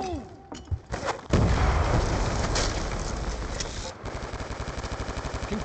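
A grenade blast in Black Ops II bursts in loudly after a few sharp shots, followed by a long rumbling, crackling decay with scattered gunfire pops continuing beneath it.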